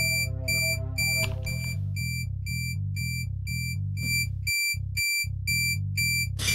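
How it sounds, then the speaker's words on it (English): Electronic beeps in an audio game repeat in a steady, fast rhythm, loud and alone over a pulsing low synthetic tone, with a couple of brief gaps near the end. "It just beeps in the middle, so."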